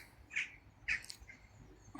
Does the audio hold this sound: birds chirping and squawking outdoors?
yes